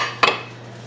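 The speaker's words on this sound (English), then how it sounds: "Just kind of stir this." Rice with water is stirred in a pot with a spurtle, a single brief clink and scrape of wood against the pot, close and clear, over a steady low kitchen hum.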